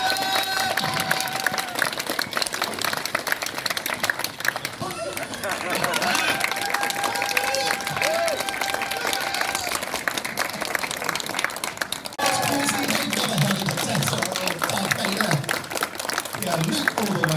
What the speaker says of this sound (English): I think a round of applause all round